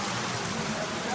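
Steady rain falling outside a temple at Mahabaleshwar, an even hiss of drops on surfaces heard briefly, close and moderately soft, with no clear talk over it.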